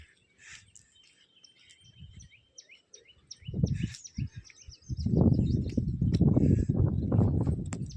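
Faint chirps and tweets of small birds on a farm in Gujarat, scattered across the clip, partly covered by louder rumbling and thumping noises in the second half.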